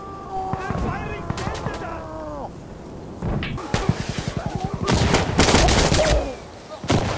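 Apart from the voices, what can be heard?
gunfire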